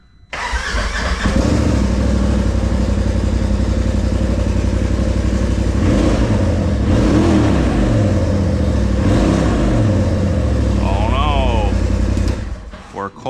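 A Polaris RZR Turbo XP with freshly changed spark plugs cranks and fires, then settles into a loud, steady engine roar with a few rev swells, while a voice talks over it.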